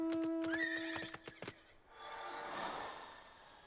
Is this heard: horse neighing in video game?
yes